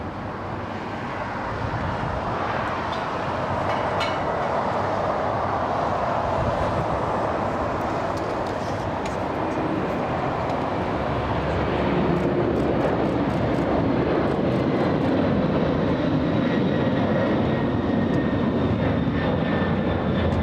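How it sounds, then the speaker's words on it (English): An Atlas Air Boeing 747 takes off at LAX, a loud, continuous jet engine roar with broad rushing noise that holds steady and builds slightly, heard close with a little wind buffeting and no talk. "So we have the 747 landing and we have the takeoff."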